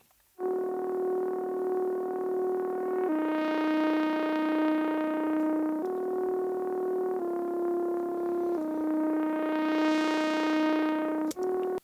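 A distorted Moog Legend synth alternates between two sustained notes in a repeating pattern, buzzy and loud, with its filter slowly opening and closing to brighten each held phrase.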